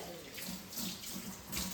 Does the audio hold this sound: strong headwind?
no